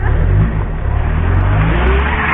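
Car pulling out onto a snowy road, a steady loud engine drone with low rumble throughout, close and continuous, no talking.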